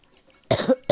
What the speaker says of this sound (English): I'm the one dying and coughing